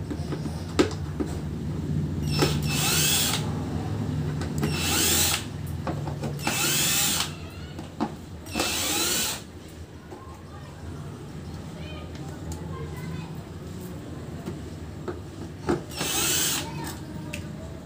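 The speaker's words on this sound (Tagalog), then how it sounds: "Gamit pa ako ng drill bit." A power drill is used to take apart a speaker, giving several short, loud whirring bursts with pauses between them, while someone talks throughout.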